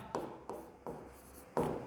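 A pen scratches on paper in four short bursts of writing separated by brief pauses, close and fairly quiet.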